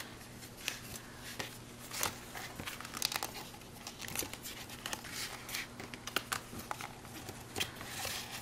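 A paper gift box being folded back up by hand, with soft crinkles, creases and light taps of paper scattered through the clip, quiet and close.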